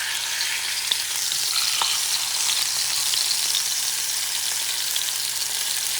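Liver sizzles and fries steadily in a hot pan, a loud, continuous crackling hiss with small pops scattered through it and no talking.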